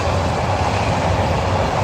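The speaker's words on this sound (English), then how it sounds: "I think this is a Herzog ballast train" A Herzog ballast train of hopper cars passes close by in Cheyenne, a loud, steady rumble of rolling wagons with a continuous low roar and faint wheel clatter, no voices.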